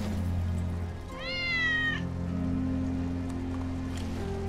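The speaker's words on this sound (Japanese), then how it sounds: "ウェッジの猫だ" Wedge's cat in the video game Final Fantasy VII Remake lets out one clear, drawn-out meow, heard close and distinct over a steady low hum of background game ambience.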